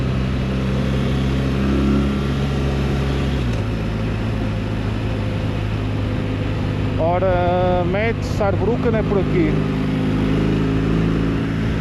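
A BMW R1300 RT motorcycle engine hums steadily at cruising speed with wind noise, a brief navigation voice announcing directions partway through.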